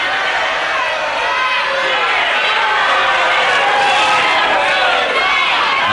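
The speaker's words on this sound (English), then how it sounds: "And there's the crowd all for Vido." A dense, roaring crowd at a wrestling event cheers loudly and continuously for the wrestler Vido, a sustained wall of voices with no break.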